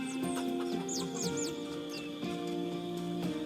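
Several chickens cluck and chirp in short, scattered calls over a steady, droning background hum, moderately close, with no talking.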